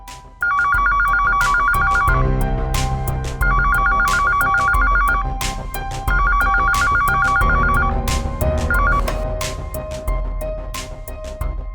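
Telephone ringtone repeating in steady bursts of electronic rings with short gaps between them, loud and close, sounding clearly alone for the whole stretch without any talking over it, in a domestic scene from a Marathi television drama.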